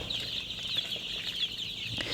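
Egyptian Fayoumi chickens at a poultry farm give off a steady, busy flock noise, with faint clucks and chatter running unbroken through a continuous background din.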